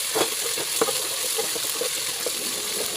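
Ginger garlic paste sautéing in a hot pan for chicken biryani, a steady close sizzle and frying hiss with light stirring taps, alone and with no talk.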